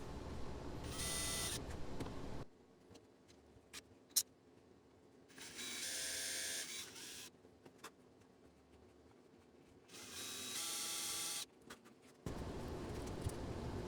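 Short bursts of a drill boring small holes in a guitar body alternate with quiet gaps. Three close, whirring runs stand out among faint clicks and handling noises.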